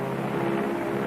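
A 1954 bomber plane drones steadily overhead as it flies toward ground zero, a continuous engine hum with no break over about a second.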